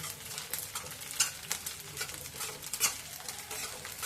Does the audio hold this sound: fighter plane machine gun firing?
no